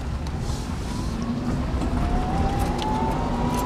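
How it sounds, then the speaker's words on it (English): An electric car converted in Barberton, Ohio, driving slowly in second gear with the pedal pressed, giving a faint, steady high-pitched squeal that rises gradually over continuous low motor and road rumble. "You'll hear a slight squeal, and it's supposed to do that at low speeds."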